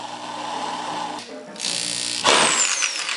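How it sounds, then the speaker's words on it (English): A power drill whirs in short bursts, pausing and then revving up again as it drives a screw, close by and fairly loud. "Okay, we're going to put in the screw now."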